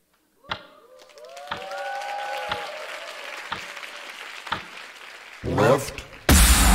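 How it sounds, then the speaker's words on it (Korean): Audience at a worship rally with a drummer performing, clapping and cheering along in a large room, with rhythmic sharp thumps and a steady crowd roar building toward a louder burst at the end. "이쪽, 왼쪽, 오른쪽 나눠서 박수와 환호로 같이 한번 해보겠습니다"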